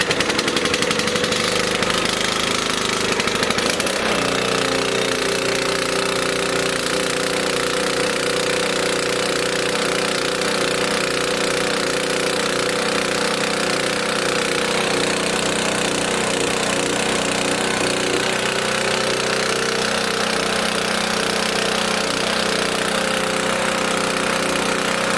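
A pull-start small engine, running on choke after many pulls, drones steadily and loudly close by for the whole stretch, its rough, uneven firing holding from the first few seconds onward with no voices.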